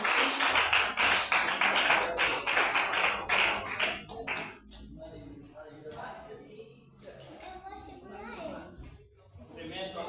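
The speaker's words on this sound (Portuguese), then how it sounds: "As palmas agradecem ao nosso Senhor Jesus." A church congregation claps steadily for about four seconds, then the clapping thins out into scattered taps as voices talk.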